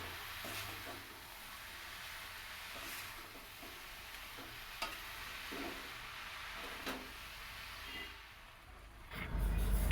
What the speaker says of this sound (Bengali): সমস্ত মশলাগুলোকে আবার ভালো করে নাড়িয়ে মিশিয়ে নিই